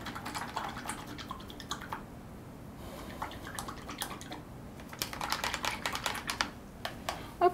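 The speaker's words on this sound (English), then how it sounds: "I'm gonna rinse my brush." A paintbrush rinsed in a water cup during a painting session, soft irregular clinking taps and splashy swishes, close and quiet, in brief bursts with pauses.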